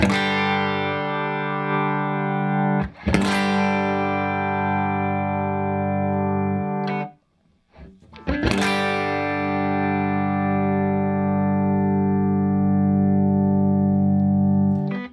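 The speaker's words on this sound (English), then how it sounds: "what really pronounced compression will sound like" Electric guitar chords heavily compressed through an MXR Dyna Comp pedal ring out with long, even sustain, struck twice with a brief silence between them.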